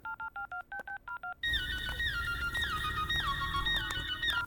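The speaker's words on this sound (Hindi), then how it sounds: "इंजीनियर को भी कॉल करती बी हूँ" DTMF keypad tones from dialing a mobile phone call, about eight short evenly spaced beeps, followed by a steady warbling ringback tone over background hum.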